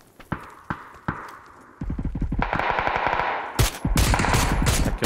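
Gunfire in PUBG: a few single shots ring out, then rapid automatic bursts rattle continuously, loud and close, with sharp crack-like hits near the end.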